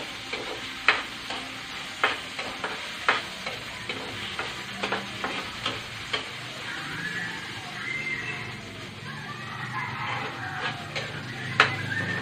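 Food is stirred as it fries in a pan while preparing a hot meal, with repeated scraping strokes over a steady close sizzle and no talking.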